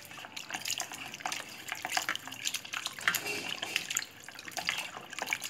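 Lamb legs being washed by hand in water with turmeric and vinacer added, giving continuous splashing, sloshing and trickling sounds close by, with no talking.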